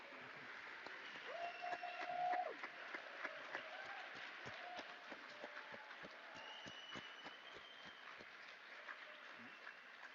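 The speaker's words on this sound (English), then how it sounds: "thank you for the claps" Audience applause at a Fab Lab conference session, a steady wash of many hands clapping from a crowd that continues through the whole stretch at a moderate, even level.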